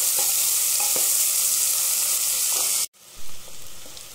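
Two large onions, cut into small pieces, fry in a pan with a loud, continuous close-up sizzle that breaks off abruptly near the end, then resumes more quietly.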